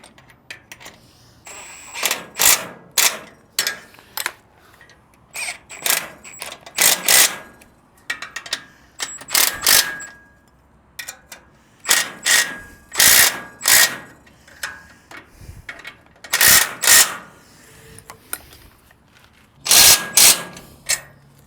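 A ratchet wrench snugs down the bolts on a trailer's tongue-mounted spare tire bracket. Repeated short bursts of rapid metallic clicking come in about ten separate groups, close and fairly loud, with quiet gaps between them.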